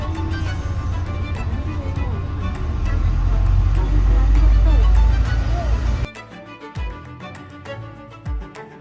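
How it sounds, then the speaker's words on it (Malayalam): A bus rumbles through a narrow, tight London street lined with parked cars, its deep engine drone swelling loud and then dropping off abruptly, with voices talking over it throughout. "ഈ ചെറിയ വഴി കൂടെയാണ് ഈ ബസ് പോകുന്നത് കേട്ടോ"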